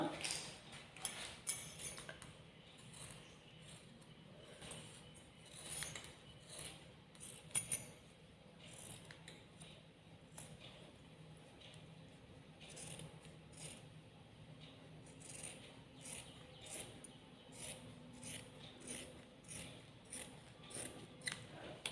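Scissors snip through nighty fabric in a run of quick, crisp, evenly spaced cuts, faint and close, continuing steadily with brief pauses between strokes.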